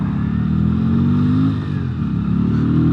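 A 2023 Keeway RKV125 motorcycle pulling away, its small single-cylinder exhaust note rising steadily in pitch as it accelerates, briefly dipping at a gear change, then climbing again, close and loud.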